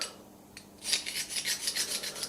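A metal file rasps in quick, rhythmic strokes against the inside bevel of a leather strap end punch, close and fairly quiet, with no voices.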